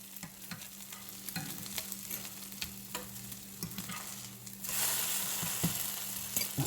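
Vegetables browning in a hot pan with sage, a low, steady sizzle broken by scattered scraping clicks from stirring, growing louder and brighter for the final couple of seconds.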